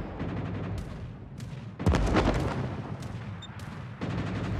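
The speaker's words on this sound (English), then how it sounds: "So we do have gunfire in on this," Ship guns firing in World of Warships, a series of sharp booming shots spaced out over a few seconds, one heavier blast standing out in the middle, with no talking.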